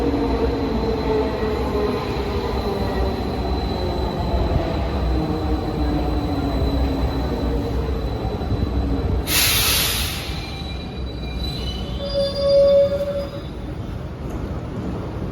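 A subway train rumbles steadily through an Athens metro station, with a low continuous roar, a brief hiss of air, and a short high wheel squeal near the end.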